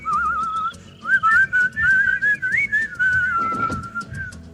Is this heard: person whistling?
yes